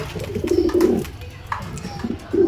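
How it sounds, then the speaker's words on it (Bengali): Newly paired racing pigeons, a cock and hen, coo in short rounded bursts close by, with soft low throaty coos repeating and pausing between calls. "জোড়াটা নতুন পেয়ার করছি, মাদিটা হচ্ছে ইব্রাহিম ভাই থেকে নেওয়া,"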